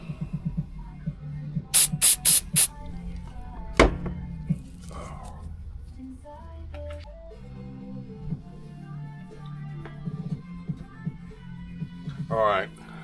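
CA glue activator is sprayed onto a Corvette vacuum tank during a restoration repair, heard as a quick run of four short, sharp hissing spray bursts close by, with someone talking through much of the clip.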